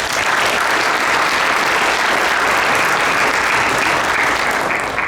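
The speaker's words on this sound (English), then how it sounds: "Please give him a nice round of applause." Audience applause at a Derby inauguration ceremony for the superintendent of schools, a dense, loud and steady round of clapping from a crowd.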